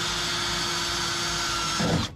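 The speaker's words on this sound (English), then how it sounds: "got 4 holes to drill." A power drill whines at a steady pitch for about two seconds, close and loud, then bites in with a rougher grinding burst before stopping, drilling holes in a boat.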